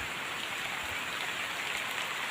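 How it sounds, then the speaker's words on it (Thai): Rain falls steadily over rice fields in the afternoon, a soft, even hiss of drops with no break and no voices. "ฝนตกบรรยากาศอยู่ทงหน้าทุงไฮพี่น้องเอ้ย ฝนตกพี่น้อง"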